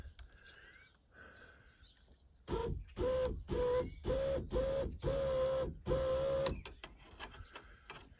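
A 2015 Ford Explorer moonroof motor, reinstalled after water-leak damage, runs in a series of short whirring bursts with brief pauses between them, fairly close and steady, with no talk over it.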